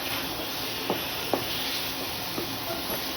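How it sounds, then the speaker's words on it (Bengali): Chicken frying lightly with salt in a pan for a homestyle stew, a soft steady sizzle and hiss with a few faint stirring scrapes, quiet and close with no talking. "নুন দিয়ে হালকা করে চিকেনটা একটু ভাজা ভাজা করবো।"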